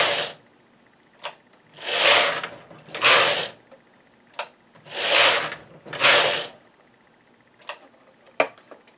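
A knitting machine carriage slides across the bed knitting short rows, with four loud whooshing, clattering passes in two pairs and small sharp clicks and ticks between them.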